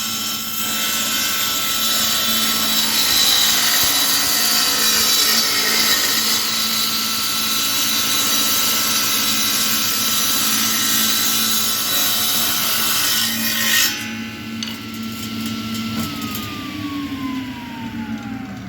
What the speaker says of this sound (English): let's watch as I cut this piece of wood